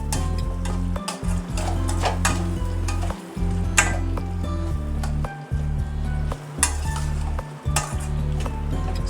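Squid thokku being stirred in a hot pan after curry leaves go in, a steady close sizzle with clinks and scrapes of a spoon against metal, brief pauses between stirs.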